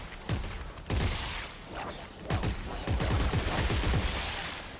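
Gunfire in the video game Dead Space 3, several sharp bursts of shots with rapid repeated cracks and mechanical clatter between them, fairly close and punchy.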